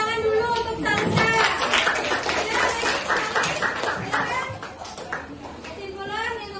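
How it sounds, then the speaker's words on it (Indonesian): Students in a classroom clap for a classmate during a mathematics lesson, a lively burst of many hands close by that settles into scattered claps, with voices speaking over it. "tepuk tangan dulu untuk Salsa."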